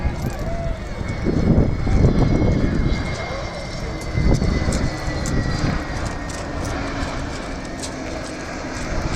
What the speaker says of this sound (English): he's now going to turn to position the aircraft along parallel to the beach